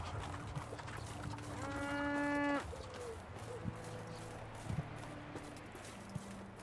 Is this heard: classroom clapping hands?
no